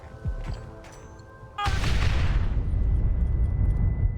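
Cover gunfire in Red Dead Redemption: a few sharp distant shots, then a heavy explosive burst followed by sustained rumbling gunfire and roar, loud and continuous.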